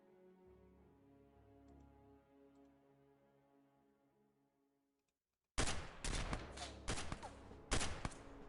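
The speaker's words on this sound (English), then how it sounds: "They're shooting blindly at where we were." Enemy gunfire in the strategy video game XCOM, a burst of sharp, loud shots and rapid volleys breaking in suddenly after quiet tonal background music and continuing in clustered cracks to the end.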